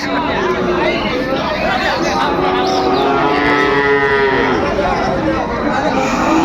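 Cows and calves mooing at Raniganj cattle market in Dinajpur: several long, drawn-out moos, near and far, overlapping amid a busy crowd of chattering voices and general market hubbub.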